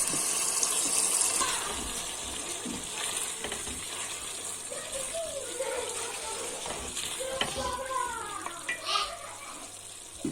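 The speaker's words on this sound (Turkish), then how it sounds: "Birazcık su döküyoruz." Water poured into a pan of frying onions and tomato paste, giving a loud sizzling hiss with stirring and scraping, while a voice talks over it.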